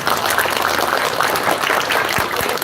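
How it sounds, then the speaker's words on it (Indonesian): Children at a Maulid Nabi school celebration applaud together, a dense steady patter of many small hands clapping continuously and moderately loud in a hall. "Tepuk tangan."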